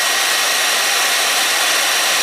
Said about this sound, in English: Hair dryer still running.